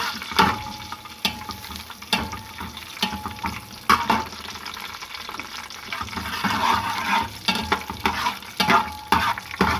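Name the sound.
lightly frying coconut, almonds and cardamom in a pan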